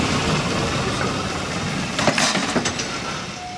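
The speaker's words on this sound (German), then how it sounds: "die inzwischen abgekuppelt wurde, auf Gleis 2 vorbeifährt" An uncoupled locomotive of the Harz narrow-gauge Selketal railway runs past on track 2, giving a steady mid-distance rumble with a few sharper clanks and knocks toward the end.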